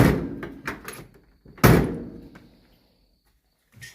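The door on a Mustang coupe being converted to a fastback is worked open and shut: a few lighter clunks and rattles, then one solid, close slam that rings briefly before fading to quiet.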